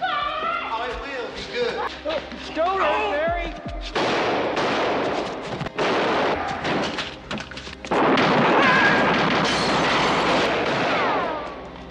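Gunshots ring out in a film scene as bursts of loud, booming shots, heard under continuous narration.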